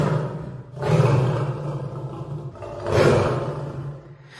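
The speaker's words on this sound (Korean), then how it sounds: "사자는 크게 울부짖으며 마녀 앞으로 무섭게" A lion roars twice, deep and rumbling, each roar swelling and fading over about a second, close and loud with no voices.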